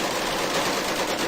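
Guns firing in an animated series: a dense, unbroken burst of rapid automatic fire, loud and close, with no talking.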